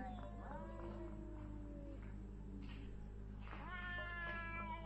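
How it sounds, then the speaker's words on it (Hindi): A cat meows repeatedly in a room of a supposedly haunted house, drawn-out wavering cries over a steady low hum, one long call early and another rising meow near the end. "देख ही सकते हो गाइस बिल्ली की आवाज आने शुरू हो गई है।"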